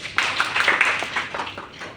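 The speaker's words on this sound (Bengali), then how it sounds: "জোরে একটা হাততালি।" A sharp run of hand claps, several quick slaps in a row at close range, fairly loud against a quiet room.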